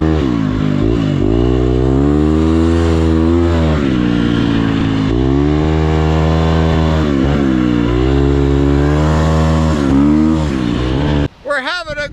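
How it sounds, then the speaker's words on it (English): Husqvarna 250 dirt bike engine revving hard on a beach, loud and close, its pitch rising and falling through repeated throttle blips almost without a break, then cutting off abruptly near the end. "we're being on the dirt bike and we're playing on that bike too"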